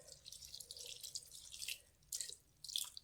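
Water trickles and drips into a pot of jaggery, a short run of splashy pouring that pauses and resumes twice, close and fairly quiet with no talk.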